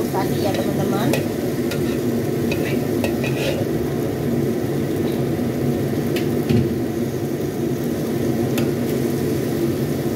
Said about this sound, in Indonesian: Kita tumis mie-nya sampai dengan semua bahan tercampur rata.